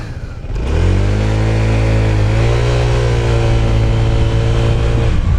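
A Honda ADV 160 scooter, fitted with a home-installed CVT setup, revs up from idle and holds a loud, droning engine note up close while the pitch rises smoothly, with no voices.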